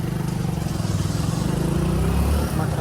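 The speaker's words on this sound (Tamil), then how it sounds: "கோவாவில் ஒரு பைக் ட்ரைவ்" Motorcycle taxi ride on a Goa highway, the engine droning steadily and close throughout with constant road and wind rumble beneath.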